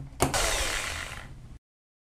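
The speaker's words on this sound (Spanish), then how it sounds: "estos listones son los que vamos a colocar atornillándolos en los rieles" A power screwdriver drives a screw through a wooden slat into a ceiling rail for a wooden ceiling installation, one close whirring run of about a second and a half that starts with a sharp catch and then cuts off.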